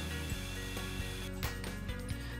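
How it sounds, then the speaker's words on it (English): A power drill boring mounting holes into the top plate of a loft staircase kit, with a steady motor whine broken by a few sharp, regularly spaced mechanical clicks, close and loud. "And then I needed to drill the holes to mount to that top plate for the top of the staircase"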